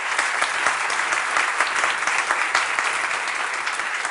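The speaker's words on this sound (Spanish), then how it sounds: "Vamos a darle un aplauso tremendo." A crowd claps continuously, a dense and even burst of applause throughout.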